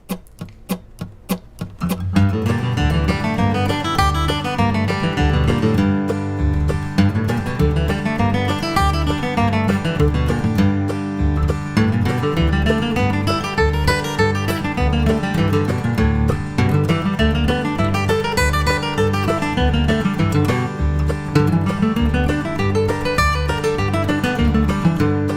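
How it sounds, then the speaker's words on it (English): Bluegrass guitar runs scale patterns over a steady strummed backing track at about 100 bpm, bright flatpicked notes weaving above a bouncing bass-and-chord rhythm, loud and continuous. "I want to play all of those scale patterns here for you, along with that backing track"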